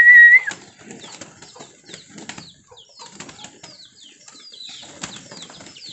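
Pigeons flap their wings in repeated bursts of fluttering at feeding time, close and fairly loud, with soft cooing and scratchy rustles between flights and a brief high whistle at the start.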